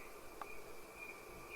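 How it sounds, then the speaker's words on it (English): A cricket chirping as a sound effect in a children's audiobook, a faint steady high trill with one brief sharper click, heard alone. "For long she fluttered around in search of Cricket's chirping sound."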